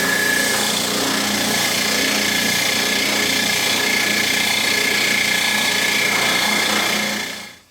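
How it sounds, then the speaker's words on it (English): An oscillating spindle sander works over the outside of a wooden bandsaw box, a loud steady whirring grind that runs unbroken before winding down at the very end. "we're going to go over to that oscillating spindle sander and we're going to give it a good sanding on the outside"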